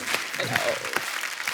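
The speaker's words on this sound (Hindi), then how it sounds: "फरहाद के लिए जोरदार तालियां यार।" Dense, steady clapping from a studio audience on a Hindi television comedy talk show greets a film writer guest; the applause fills the short span at close range, with a voice briefly audible over it.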